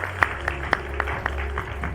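Scattered audience applause welcoming the guest host at a Hong Kong AI seminar, a handful of distinct claps over a low steady room hum, fairly faint and sparse.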